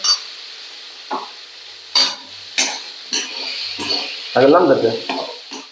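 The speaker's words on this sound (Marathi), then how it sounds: "आता मी इथे ठेचलेला लसूण घालते थोडासा आणि लसूण चांगला फ्राय होतोय" Crushed garlic dropped into hot oil in a pan, sizzling loudly in a burst near the end among scattered clinks and stirring knocks, with a quiet hiss between them.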